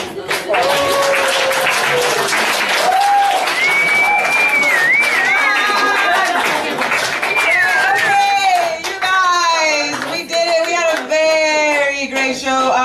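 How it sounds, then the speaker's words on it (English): Applause fills a stand-up comedy night at De Nieuwe Anita, steady continuous clapping from the crowd with voices and shouts rising over it throughout, loud and sustained for over ten seconds. "Could you keep a round of applause going for everyone you saw tonight?"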